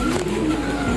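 Caged pigeons coo in a brief low, soft throaty call, close and alone for about a second.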